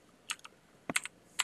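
Keys tapped on a computer keyboard in a few quick, light bursts of clicks, close and fairly quiet, with no talking.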